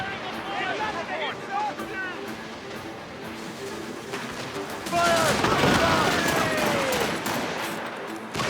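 Naval gunfire from sailing warships in Assassin's Creed Rogue: repeated cannon and musket volleys crackle in bursts, swelling into a dense, loud barrage in the second half, with shouted voices and battle noise underneath.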